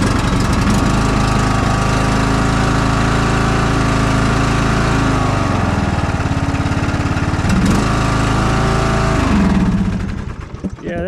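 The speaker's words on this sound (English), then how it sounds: "I got this one running, new carburetor in it. I tried cleaning it the first time, but it wouldn't clean. So let's try this again and see if it'll start." Small engine with a newly replaced carburetor runs loud and steady from the start, its rapid chugging rhythm shifting slightly in pace before it cuts off near the end.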